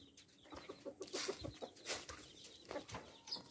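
Chickens cluck and call inside a backyard coop, a run of short close clucks with a louder burst in the middle and scattered fowl noises throughout, no talking.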